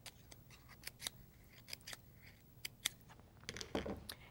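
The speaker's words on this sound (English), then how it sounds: "I'll just trim a little fringe around the edge" Scissors snipping a paper fringe around the edge of a craft owl bag, a series of quick, crisp, close cuts in an irregular rhythm, quiet otherwise.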